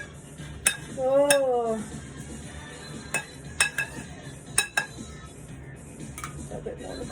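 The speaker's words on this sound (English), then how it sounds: "I feel like this spoon's too big for my dish" A metal spoon clinks and scrapes in a baking dish while an aubergine parmigiana is being assembled, with sharp irregular taps and a brief exclamation from a voice.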